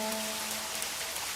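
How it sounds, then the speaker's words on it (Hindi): Heavy rain pouring down in a steady, dense hiss, loud and close, with no other sound over it before it cuts off abruptly. "आज तो बारिश ने जम के कहर ढाया है"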